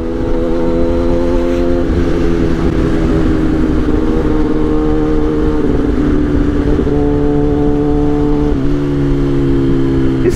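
A Kawasaki ZX-10R sport motorcycle engine with a full titanium exhaust drones loudly and steadily, with harmonic exhaust tones that shift pitch a few times as it revs up and settles, no voices.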